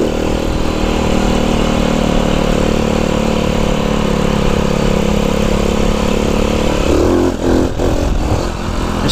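A Honda Cub C90 with a 140cc engine during a wheelie, producing a loud, continuous, buzzing small-engine drone heard up close with wind rush, which dips briefly near the end.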